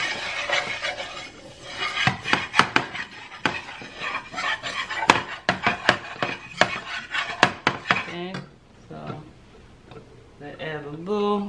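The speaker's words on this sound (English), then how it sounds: "using your whisk, you want to whisk this around" A whisk scrapes and taps quickly against a pan as flour cooks in oil toward browning, giving rapid clicky strokes, and then a voice speaks near the end.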